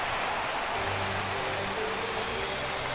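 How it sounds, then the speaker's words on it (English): Rain pours down on a baseball stadium in the video game MLB 17 The Show during a Houston at Boston game, a steady broadband hiss of falling rain with a faint low hum beneath. "we've mentioned the conditions aren't ideal with the rain coming down"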